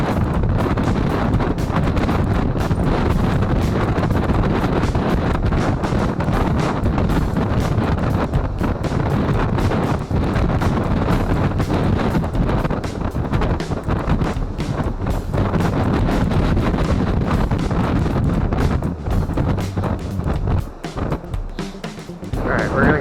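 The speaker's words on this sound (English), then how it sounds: "on a 24 mile an hour windy day" Strong wind of about 24 miles per hour buffets the microphone at a fishing pier in a constant, loud roar that lasts throughout, easing slightly near the end.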